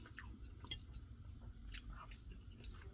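Faint, close chewing of soul food, soft moist squishes and small crisp bites scattered irregularly over a quiet background.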